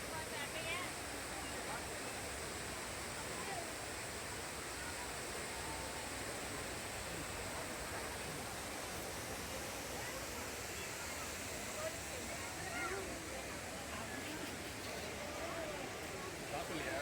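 A waterfall at Kutralam in Tenkasi pours in a steady, dense roar that fills the whole stretch without pause, close and constant.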